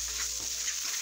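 Spices frying in a pot for a salmon fish head biryani give a faint, steady sizzling hiss with soft stirring scrapes, nearby and without voices.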